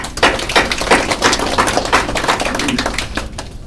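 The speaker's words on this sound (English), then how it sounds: "you guys should give yourself a round of applause" Audience applause at a networking event keynote, close, loud crisp clapping from a modest crowd with distinct individual claps, fairly steady before tapering at the end.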